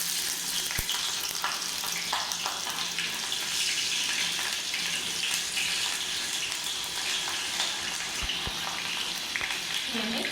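Chopped onion dropped into hot oil hisses in a loud, continuous close sizzle, dense and even throughout, with a couple of faint knocks and no voices.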